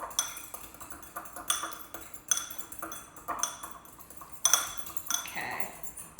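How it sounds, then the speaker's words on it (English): A fork stirring a dressing of mustard, vinegar, salt and pepper, with light metallic clinks and taps against a bowl at irregular intervals, fairly faint and close. "And then you just take a fork"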